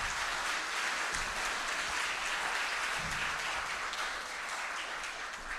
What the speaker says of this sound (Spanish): un aplauso para los profesores.